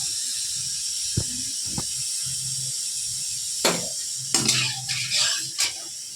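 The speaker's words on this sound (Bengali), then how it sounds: "আমি শিং মাছ দিলাম।" Singi fish go into hot oil in a heated wok, and a steady hiss of oil runs throughout, broken by a few sharp crackling spits and bursts of sizzling.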